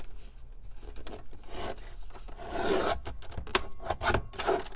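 A paper guillotine trims paper for a belly band, giving a close, steady rasping slide of blade against paper that grows a little louder and rougher toward the end.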